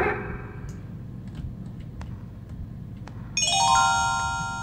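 A phone rings in the horror video game Calling, a bright electronic ringtone cutting in near the end over a low ambient drone with faint ticks, no speech.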